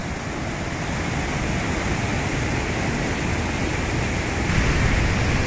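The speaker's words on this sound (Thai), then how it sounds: "ก็จะเห็นภาพน้ำตกที่ยิ่งใหญ่เห็นทั้ง 2-3 ชั้นนี่เลยนี่นะครับ" Steady, dense roar of a large multi-tier waterfall, Thoo Lei falls in Karen State, as broadband rushing water fills the space without pause and no voices are heard.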